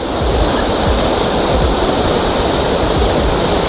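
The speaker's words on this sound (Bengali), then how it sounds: "মারাত্মক জলের তেজ, মারাত্মক, প্রচণ্ড আওয়াজ" Sanaghagra waterfall roaring loud and close, a dense, unbroken wash of rushing water that fills the whole few seconds without any pause.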